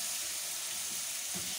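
Sliced bitter gourd sautéing in a pan for a simple home-cooked Filipino dish, giving a faint, steady sizzle with soft stirring, heard up close and alone.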